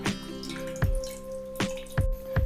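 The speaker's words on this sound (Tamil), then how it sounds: "ஒரு வடிகட்டியில் நாம் அரைச்சி எடுத்துகிட்டு வந்த கேரட் பேஸ்ட்டை வடிகட்டிடலாம்" Carrot paste is pressed through a strainer with a spoon, liquid dripping into a bowl in about five distinct close drips spaced roughly half a second apart, over a faint steady hum.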